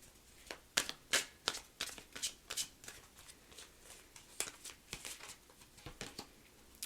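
Tarot cards being shuffled by hand, a close, quiet series of crisp riffling and slapping bursts at an uneven rhythm, with no talk.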